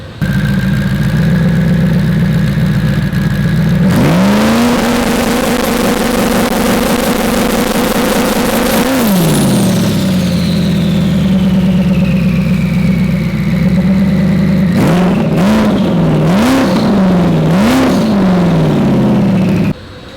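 A truck engine on two-step launch control roars loud and close, holding a steady high rev with crackling before dropping back to idle, then gives several sharp rev blips.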